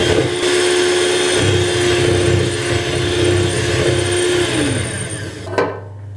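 An electric mixer whirs loudly and steadily as it whisks cake batter with flour, cocoa, baking powder and vanilla. Its motor drone holds for several seconds, then winds down and stops with a brief clunk.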